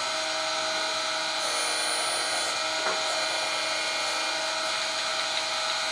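A Reid 6 x 18 inch surface grinder with a Walker magnetic chuck runs steadily, a loud, continuous high whine with a brief grinding swell midway.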